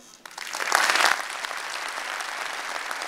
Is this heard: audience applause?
yes